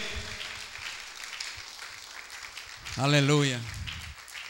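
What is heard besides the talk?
church congregation applause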